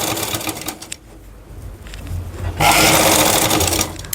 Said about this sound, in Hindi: अब हम दोबारा से शुरू करेंगे, वैसे ही सिलाई करेंगे, बिल्कुल सटा कर लगाएंगे।